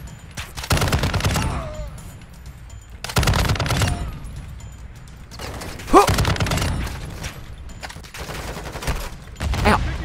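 Gunfire in the video game Call of Duty DMZ comes in several sharp bursts a few seconds apart, with quieter mechanical clicks between them, and there is no clear talk.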